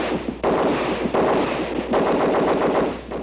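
Sustained burst of continuous fire from an HK roller-locked machine gun shooting 7.62mm NATO rounds, loud rapid shots running without pause through the whole stretch, no voices.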